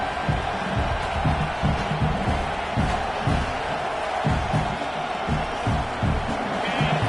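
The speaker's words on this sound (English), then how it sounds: "this home crowd is fired up and ready to make a difference today" A home crowd roars through a college football playoff game, a dense, sustained wall of cheering with rhythmic surges and thumping swells that stay loud and steady throughout.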